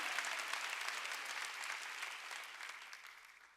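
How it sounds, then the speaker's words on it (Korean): Congregation at a Korean church Wednesday worship service breaks into dense, even applause that holds steady and fades slightly over a few seconds, with no voices over it. "박수 치라 이기야."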